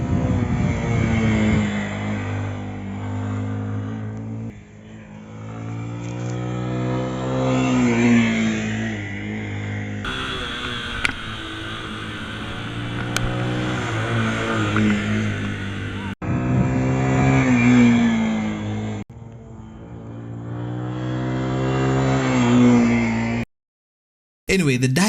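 A Dayang Gallop 183 motorcycle circles a small roundabout with its engine rising and falling in pitch as it revs and eases off, loud and steady throughout, with a brief dropout near the end.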